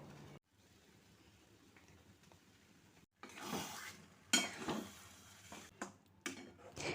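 Thickening semolina stirred in a pan: quiet at first, then repeated scraping strokes of a spoon against the pan, close, with soft bubbling between them and no voices.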